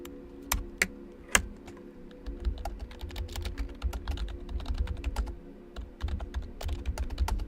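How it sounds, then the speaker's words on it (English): Computer keyboard typing, a quick irregular run of crisp key clicks with a few louder taps near the start, close and clear over a faint low hum. "Keyboard ASMR."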